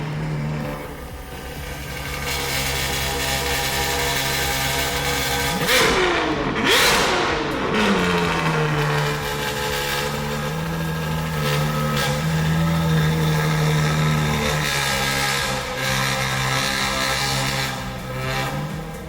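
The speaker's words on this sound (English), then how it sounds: "We did a cold start, and wait until you hear this cold start." A Ferrari 812 Superfast V12 with a Novitec titanium straight-pipe exhaust fires up from cold, a loud crackling bark settling into a high, steady idle roar that stays close and dominant throughout.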